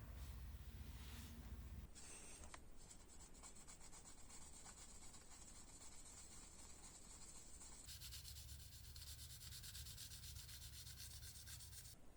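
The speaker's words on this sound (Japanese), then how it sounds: "目が乾燥したので中研ぎしてみましょうか。" Quiet, steady rubbing of abrasive over a hardened clear coat on the cowl of a Hasegawa 1/24 Jaguar XJR-9 LM scale model, continuous close scratchy strokes throughout with a brief louder shift midway.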